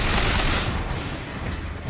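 Dense, continuous gunfire blasts away at a turret in the video game Bioshock Infinite, a short, loud burst of rapid shots with no talking.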